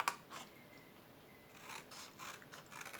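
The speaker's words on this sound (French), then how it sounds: "Je vais commencer par couper la boîte." A cardboard box is cut along its folds with scissors in a quiet room: faint, dry snips and scraping rasps come in short irregular bursts, close and soft, with no talk.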